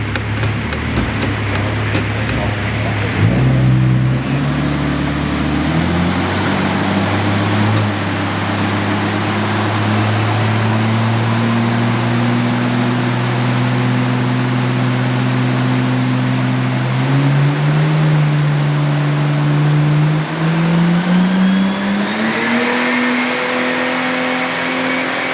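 A Holden VL Calais engine fitted with a TH400 runs on petrol, its idle steadily rising in pitch as the revs creep up in stages, a loud, close, continuous drone with one short step down before climbing again.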